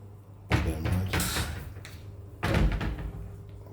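A hotel room door at the Aurico Kata and Spa swinging and closing, two distinct loud thuds about two seconds apart, close by with brief rattling after each.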